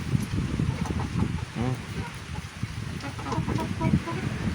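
A flock of chickens clucks and squawks busily while being fed, close and continuous, with a person's voice speaking faintly among them.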